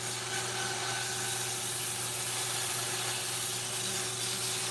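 A soft sapwood bowl being sanded on a woodturning lathe gives a steady, even whir with a broad rushing hiss and a low motor hum, constant and close, with no talking.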